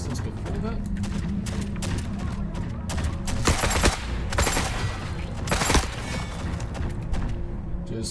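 Combat in The Forever Winter video game as enemy factions fight each other: dense overlapping gunfire and bursts of automatic fire, fairly close and continuous, with a few louder shots standing out.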